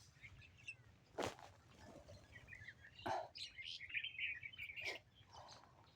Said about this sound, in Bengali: এদিকে ক্ষেতের ভিতরে পাখিগুলো খেলা করছে।